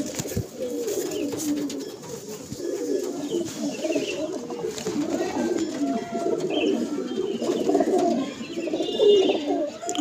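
A female pigeon at a home loft coos in repeated low, throaty rolls, close and steady, with other birds faintly chirping in the background.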